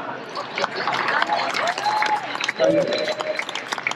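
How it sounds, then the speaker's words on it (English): Cruise ship crowd applauding an entertainment staff member during an evening show aboard Wonder of the Seas, steady clapping and cheering that runs under a host's amplified voice. "Another round of applause"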